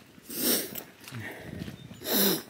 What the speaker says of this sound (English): I have the sniffles, obviously.